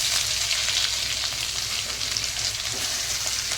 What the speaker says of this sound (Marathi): मसाला चांगला भाजला पाहिजे कच्चा राहू नये